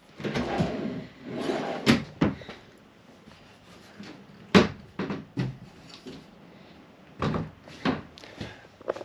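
Dresser drawers in a 2024 Sierra destination travel trailer slide open and shut repeatedly, producing a series of close, sharp wooden knocks and thumps with short scraping runs between them.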